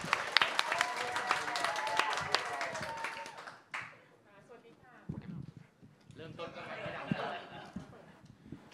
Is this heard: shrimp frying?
no